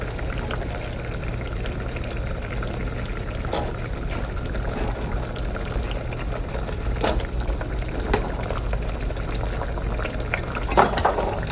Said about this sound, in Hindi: अच्छा, अब इसमें चने डाल देते हैं।